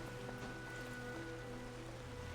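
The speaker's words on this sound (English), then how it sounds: "Why is all the water so loud?" Water ambience in the video game Genshin Impact, set in the Fontaine region: a steady, even rushing wash like flowing water or rain, held at a constant quiet level with no talking.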